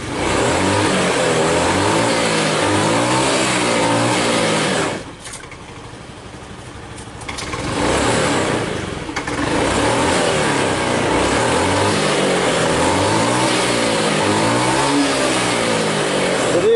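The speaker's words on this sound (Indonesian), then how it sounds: "motor ini nggak bisa kita tarik gas langsung seperti ini" A Honda Beat FI fuel-injected motor scooter engine revs up and down repeatedly, loud and close, with a brief quieter idle in the middle before revving again.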